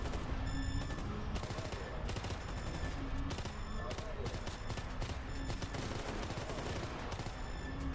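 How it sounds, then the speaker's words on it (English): Rapid, sustained gunfire against enemies in the video game STALKER GAMMA, with dense repeated shots in quick bursts throughout, loud and close, over steady game ambience. "It takes so many more bullets to shoot these guys with Hydra Shock"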